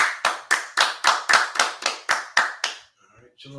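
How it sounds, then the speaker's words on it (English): A group claps in unison, about ten sharp, evenly timed claps close by, then stops, with a voice starting up just afterward. "clap it up."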